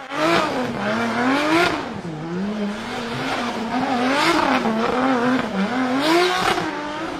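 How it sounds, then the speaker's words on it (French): A Toyota Supra's engine revs and wails up and down through repeated gear-like sweeps, close and loud, with tires squealing as it drifts at the Goodwood Festival of Speed; no talking. "Regarde cette Toyota Supra et son légendaire moteur drifter au Goodwood Festival of Speed."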